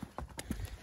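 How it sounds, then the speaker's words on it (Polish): A horse's hooves clip-clop in a few uneven steps close by, with faint background noise and no clear talk. "Koń."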